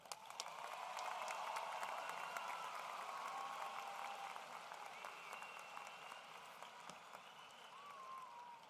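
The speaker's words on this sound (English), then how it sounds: "Let's give them a round of applause." Sustained applause from a large crowd at a high school graduation ceremony, many hands clapping steadily and evenly, heard from some distance with a faint roomy echo.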